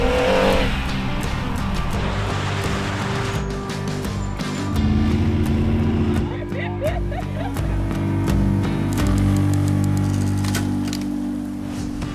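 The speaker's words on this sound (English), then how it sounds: "Wow, that is one heck of a collection of four-wheel drive vehicles." A large group of four-wheel drive vehicles on the Oregon Dunes, engines idling and revving together in a steady, loud rumble, with some tire noise and occasional voices nearby.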